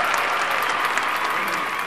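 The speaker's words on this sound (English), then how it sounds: "on les applaudit très fort" Loud, continuous applause from a crowd at an outdoor demonstration event, with dense clapping and a hint of cheering, steady throughout the short stretch.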